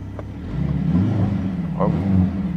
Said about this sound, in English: There you can also hear how the sound actuator plays together with the rear exhaust.